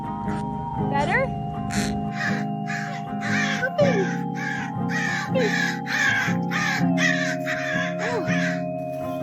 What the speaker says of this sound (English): this crow just is trying to hide the cashew in my head